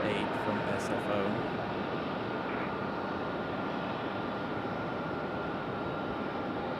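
A Boeing 737 Max 8 from San Francisco rumbles at Raleigh-Durham International Airport, a continuous broad jet roar that stays loud and even throughout, with faint talk in the background.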